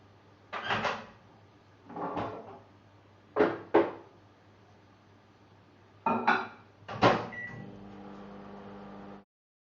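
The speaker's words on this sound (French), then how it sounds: "Donc on va le mettre au micro-ondes." Microwave oven in a home kitchen heating a bowl of water, with a few separate clunks and clatters of the door and dish, then a steady low hum near the end.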